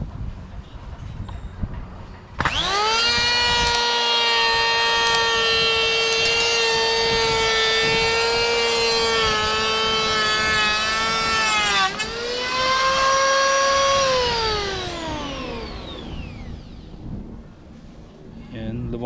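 A Lotus electric planer smooths a piece of wood, the motor spinning up to a loud, sustained whine that holds for about ten seconds, dips briefly as it cuts, then winds down and fades.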